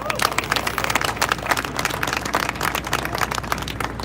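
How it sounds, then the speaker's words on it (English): Audience applause at an African Unity celebration, dense steady clapping from a crowd filling the room for several seconds, fairly close and continuous with murmuring voices mixed in. "Please give her another round of applause."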